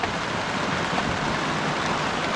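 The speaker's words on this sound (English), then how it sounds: "we have a full-on downpour going on out here" A heavy outdoor rain downpour roars as a dense, constant hiss of rain on surfaces, loud and unbroken throughout with no talking.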